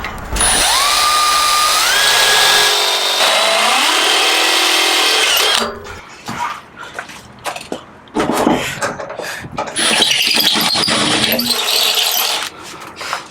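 A power drill whines steadily as it bores a hole in a Ford Transit passenger van, then stops, followed by clattering handling noises and a second burst of drilling.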